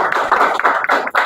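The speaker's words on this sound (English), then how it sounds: "give applause to your friend" A classroom of students claps for a classmate, a dense burst of hand claps in quick uneven rhythm, close and loud, fading briefly before picking up again.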